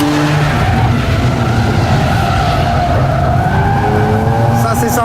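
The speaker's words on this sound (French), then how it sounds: "Ça c'est sympa, une belle dérive ici." A Mazda RX-8 drifts around a race track, its tires squealing in a long, sustained skid over a steady, loud engine drone, with someone talking over the noise.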